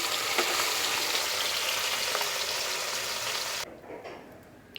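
Small puti fish fry in hot oil in a kadai, giving a loud, dense sizzle that crackles steadily. The sizzle drops away suddenly near the end, leaving only faint crackles.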